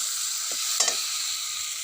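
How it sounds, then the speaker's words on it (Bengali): Egg and potato curry simmers in a pot on a wood-fired clay stove, giving a constant close sizzling hiss with a couple of brief stirring or clattering sounds in the middle. "রান্না হচ্ছে এখানে কাঠের উনুনে রান্না করছি"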